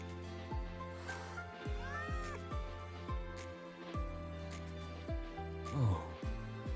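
Frightened cat meowing in the video game Wuthering Waves, several plaintive, wavering meows over a steady game music bed with repeated low plucked notes.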